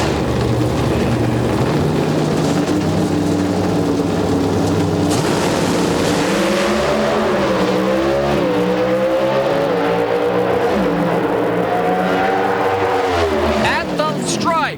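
NHRA factory hot rod drag cars with Richard Maskin engines racing side by side at Bristol, a loud sustained engine roar rising in pitch through the gears and fading near the end.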